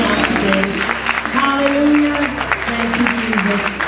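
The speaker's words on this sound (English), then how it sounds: "Can we give the Lord a hand clap of praise on today?" A church congregation at a pastor's anniversary service claps steadily in praise, a dense, loud wash of hands beneath voices and sustained musical tones.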